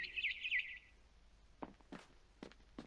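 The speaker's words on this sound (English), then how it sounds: "Then I heard chirping outside my window. It was a barn swallow going back to her nest." A barn swallow chirps in a short high trill in the video game What Remains of Edith Finch, then a few soft, separate sounds like footsteps, all faint and quiet.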